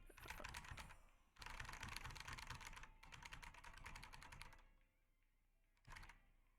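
Fast, steady mechanical clatter of typing on a Kinesis keyboard, close and loud in several dense bursts separated by short pauses, with no talking.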